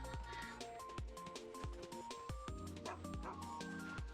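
A dog barks in Final Fantasy VII Rebirth, a few short yips cutting through busy game music and loud dripping rain, with a voice speaking over part of it.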